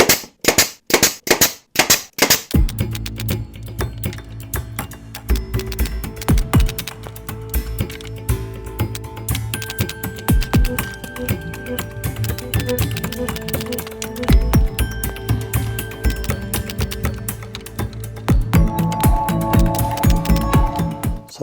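Brad nailer driving brad nails into wood boards for a bench swing, several sharp close pneumatic bangs in quick succession at the start, then ongoing clattering workshop noise.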